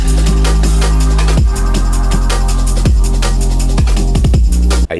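Breakcore track built from a chopped drum break with a sidechained kick and distorted sub bass: a dense, loud, continuous wall of rapid drum hits and pumping low kicks, ending with a sudden cutoff.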